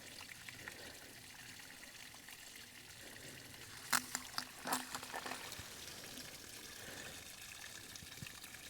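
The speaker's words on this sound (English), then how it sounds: "the water is going through the bottom of the filter and going to the bottle on the other side of the filter." Backcountry water passes through a squeeze filter into a bottle at a winter camp in the San Jacinto Wilderness. A soft, steady trickle runs throughout, with a brief burst of splashing and handling noise near the middle.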